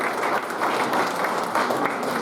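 Audience applause rings out at a cricket awards night presentation, a dense, loud and steady wash of clapping with crowd noise that runs unbroken through the moment.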